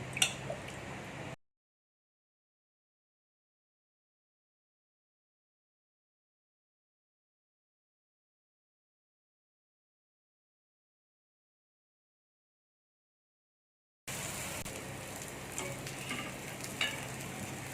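Multigrain rava dosa batter on a hot griddle gives a soft sizzling hiss with faint stirring and drips. It breaks off into a long silence, then the sizzle returns at a similar level.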